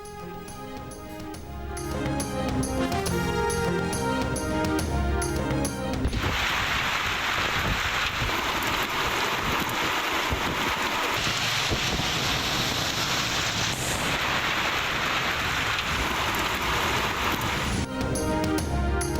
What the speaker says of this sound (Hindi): इस्लामाबाद में तेज हवाओं के साथ मूसलाधार बारिश।